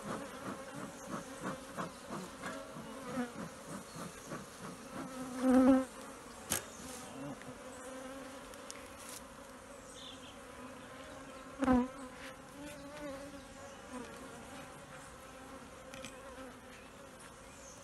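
Honey bees buzz steadily around an opened Warré hive with top bars during a honey harvest in Martinique, a close, continuous drone with a few louder passes of individual bees near the recorder.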